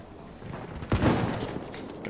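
Enemy gunfire in a first-person shooter game, a sudden burst of shots near the middle of the clip over a busy game background, with a player's voice reacting.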